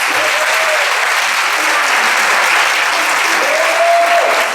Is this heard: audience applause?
yes